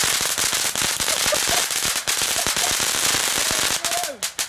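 A silver fountain firework sputters and crackles in a dense, rapid stream of sharp pops, loud and close, with faint voices briefly under it before it tapers off.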